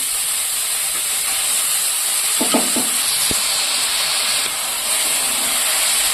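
Tomato and eggplant fry in mustard oil in a pressure cooker, giving a steady, fairly loud sizzle and hiss that runs the whole time, with a brief stir or clatter near the middle.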